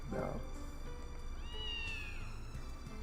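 A cat gives a single drawn-out meow, moderately close, under a steady low background hum.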